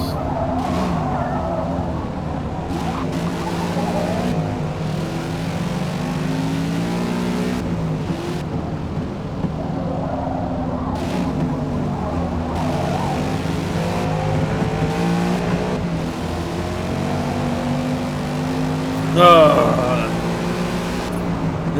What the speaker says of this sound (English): That growl of that Mustang engine.